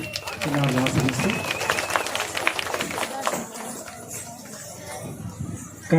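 Children clap in applause at a temple festival dance program, a dense run of claps across the whole stretch blended with crowd noise and a voice talking over it.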